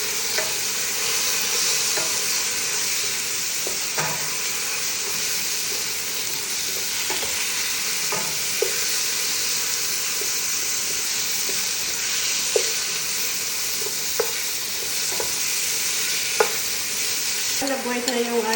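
Chicken pieces and softened onion sizzle steadily in a hot pan, with a spoon or spatula stirring and scraping through them in scattered strokes, close and continuous for the whole stretch, no voices.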